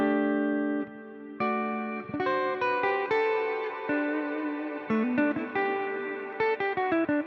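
Electric guitar notes played through a reverb effect, with earlier notes' reverb tails ringing on beneath new dry plucked notes, a series of sustained chiming tones with soft decays.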